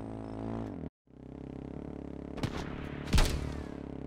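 In the survival video game H1Z1, a base turret opens fire while a vehicle engine drones, with a sharp shot and then a heavier burst of gunfire cutting through the engine sound.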